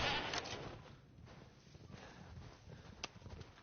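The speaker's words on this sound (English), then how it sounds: "Oh god, you're a big goat." A large goat in the game Resident Evil Village gives a bleat at the start, followed by fainter ambient game noise and a sharp click near the end.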